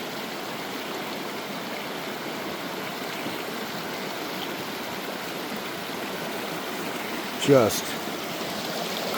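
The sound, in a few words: small mountain stream runoff flowing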